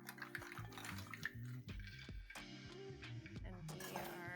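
Mussels and clams, about half a pound of each, tipped into a pot of moqueca sauce base, giving a run of clattering shell clinks and knocks against the pot with some liquid splashing, steady and close.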